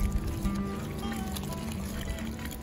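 Five litres of water poured into a homemade banana-plant fertilizer mix with coffee powder, a close trickling and splashing stream of liquid with faint background noise.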